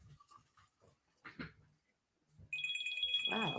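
A mobile phone ringtone starts abruptly partway through and keeps sounding loud and steady with tonal ringing notes, after a stretch of scattered speech and mouth sounds.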